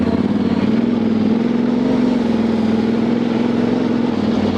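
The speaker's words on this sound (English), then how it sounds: "nighttime off-roading on the Tenere 700 World Raid" A Yamaha Tenere 700 World Raid motorcycle rides off-road at night, its engine a steady, close, loud drone that holds unbroken throughout with no voices.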